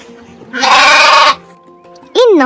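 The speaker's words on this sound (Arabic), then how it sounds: "إنه صوت الخروف" A single long, wavering sheep bleat rings out loud and close, followed by a pause and the start of a rising tone at the end.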